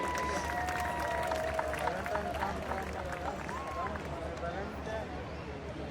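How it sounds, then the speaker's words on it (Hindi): Audience at the Vande Bharat Coastal Cyclothon 2026 event claps in a dense, continuous patter over a steady crowd murmur, with voices talking across it and a low hum underneath. "जोरदार तालियां हो जाए सर के लिए।"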